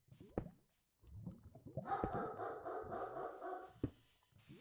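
Dogs in a home, heard as several sharp barks and yelps with scuffling and rubbing between them, fairly close and irregular, with no speech.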